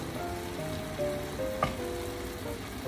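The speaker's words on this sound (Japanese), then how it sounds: "最後にね、ごま油を入れます" Bamboo shoots simmer down into menma in a pan as about two teaspoons of sesame oil go in, giving a steady, close sizzle with one brief clink partway through.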